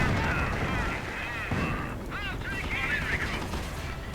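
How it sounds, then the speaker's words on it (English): An anti-tank gun fires repeatedly in a real-time strategy game amid a busy wartime battle mix, with distant booms and whistling effects under steady background noise while someone commentates. "Anti-tank gun firing away glumly"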